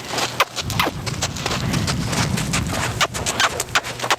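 A horse canters at liberty with no rider, its hoofbeats thudding in a rolling, steady rhythm close by on soft ground.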